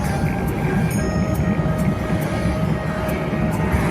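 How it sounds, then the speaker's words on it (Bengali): A long-distance train passes beside a busy city road in Kolkata, giving a steady, loud rumble with no break for the whole stretch. Traffic noise blends in beneath it. "এই পাশে ট্রেন যাচ্ছে"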